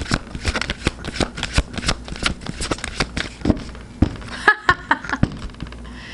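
A deck of tarot cards being shuffled up close, a quick run of crisp riffling patters and flicks with short pauses between bursts, heard alone with no talking.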